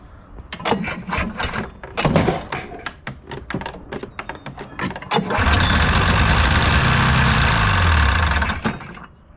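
Original barn-find 1983 Polaris Indy Trail 440 snowmobile being pull-started: a run of sharp rope-pull rasps and sputters, then the two-stroke engine catches and runs loud and steady, revving and settling before cutting off.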